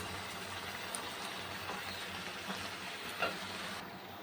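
Fish head and cabbage fry in spiced oil in a home kitchen, a quiet, steady sizzle with a few faint clinks and scrapes of stirring throughout; no talking.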